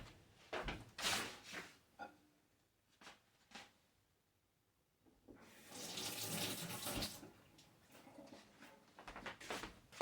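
Water runs from a kitchen tap into a sink in bursts, with short splashy rinsing runs early on and a steadier, louder stream in the second half, close by and without talk.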